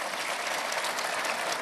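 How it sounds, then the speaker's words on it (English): Audience at the Conservative party conference applauding, a dense, steady burst of clapping from a large hall, fairly loud and continuous with no talk over it. "I never thought I'd get such applause for Jeremy Corbyn at a Tory party conference"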